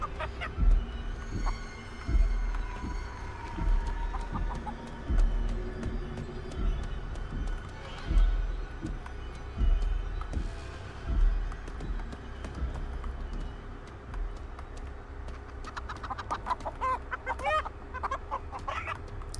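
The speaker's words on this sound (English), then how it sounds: "I heard clucking." Small chickens cluck repeatedly in the horror video game Chicken Feet, with rhythmic footstep-like thumps throughout and a burst of busier clucking near the end, fairly close and loud.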